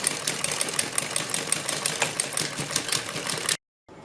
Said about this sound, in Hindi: इसके बाद हम सबसे पहले इन निशानों के ऊपर सिलाई लगाएंगे।